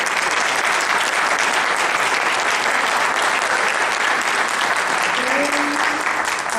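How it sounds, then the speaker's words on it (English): Audience applause at a Radford city council and mayoral candidate forum, steady dense hand clapping filling the room throughout, with a few faint voices rising near the end. "I want you guys to give a big hand clap to our Radford High School government students"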